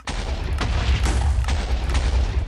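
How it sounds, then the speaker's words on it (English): Explosion from the InfusionCraft mod in Minecraft, detonating low to the ground: a sustained, loud, rumbling blast with crackling bursts lasting a couple of seconds, no speech. "It does the explosion really low to the ground."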